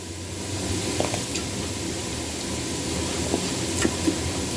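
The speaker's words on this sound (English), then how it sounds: "The garlic and these vegetables smell amazing. So let that saute a little bit more." Garlic and vegetables sauté in a pan with a continuous close hiss, broken by a few light clicks and taps of a utensil on the pan, no voices.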